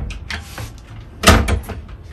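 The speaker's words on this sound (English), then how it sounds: "All these lockable drawers, so when you push them in, they're locked" Lockable drawers in an OBI Dweller overland camper are pushed shut, giving a few soft sliding bumps and then one sharp, loud latching thud nearby, with quieter knocks after.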